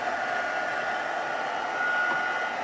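A heat tool blows a steady, even whir and hiss at close range while it dries watercolor on cardstock. The drone holds constant throughout with no talk.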